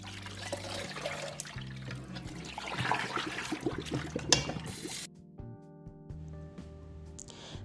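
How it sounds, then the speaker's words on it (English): Basmati rice is rinsed under running water, a steady trickle and splash for about five seconds before the flow stops, leaving quiet background tones. "let's wash the rice. This is basmati rice, and we're going to wash it until the water is no longer cloudy"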